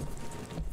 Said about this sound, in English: listen to those footstep sounds, man